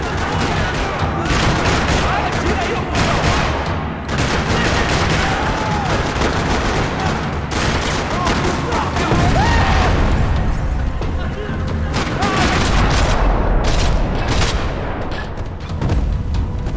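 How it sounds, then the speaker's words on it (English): Sustained gunfire rattles through a parking lot in the Max Payne 3 video game, with dense, loud bursts of shots and booming impacts continuing almost without pause, a voice occasionally heard beneath. "Another parking lot rattling with gunfire."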